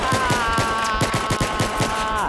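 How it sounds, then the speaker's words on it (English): Pistol spammed in rapid succession in Battlefield 3 co-op: about a dozen sharp, evenly spaced shots in a quick rhythm over a sustained electronic tone, loud and close. "Stop spamming your pistol."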